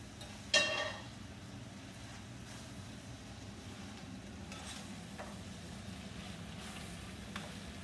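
Sweet potato hash with bacon being stirred in a pan, a soft steady sizzle with scraping strokes, one sharper clatter near the start, fairly quiet and without talk.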